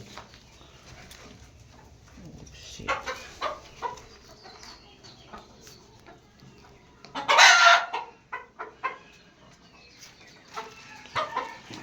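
Laying hens kept on layer feed cluck in scattered bursts, with a loud rooster crow rising in the middle; nearby and intermittent, no talk.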